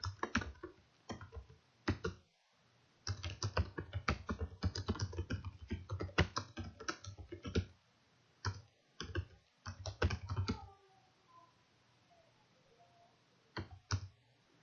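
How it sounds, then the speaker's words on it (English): Fingers type a sentence on a computer keyboard, a close run of quick key clicks in bursts with short pauses, trailing off into quiet before a couple of final taps. "You just need to type this in."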